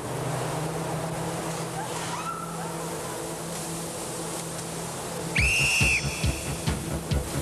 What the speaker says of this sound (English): Do not move until you hear my whistle.